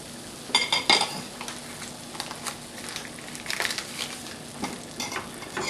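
Butter browning in a hot pan to a hazelnut colour for a brown butter sauce, with a steady sizzle broken by crackling bursts and a few scraping stirs, close and alone with no talk.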